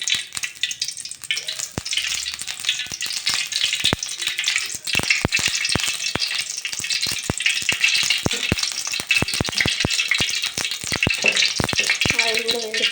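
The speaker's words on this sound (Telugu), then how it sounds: "కళాయి వేడెక్కింది కాబట్టి ఒక 3 స్పూన్ల ఆయిల్ అయితే పోసుకుంటున్నాను" Sizzling of oil heating in a hot kadai on a gas stove, a steady frying crackle with sharp clinks and scraping of a spoon, fairly close.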